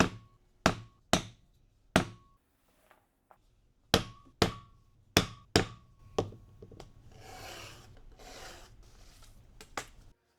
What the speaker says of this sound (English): All the rivet holes are made using a 1/8 inch hole punch.